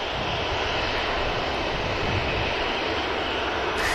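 Turkish Airlines airliner at Manchester Airport, a loud, continuous broadband engine roar holding steady throughout, close by, with no voices.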